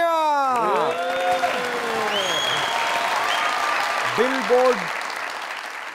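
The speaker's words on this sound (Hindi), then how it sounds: "तालियां।" A studio audience at a comedy talk show bursts into sustained applause, a broad wash of clapping that carries on while voices speak over it.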